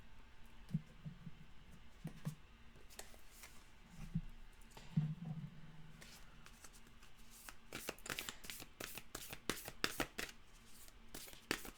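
Tarot cards are shuffled and drawn from a deck, close and soft: irregular papery riffles and slaps that grow denser and quicker toward the end, with a low hum underneath.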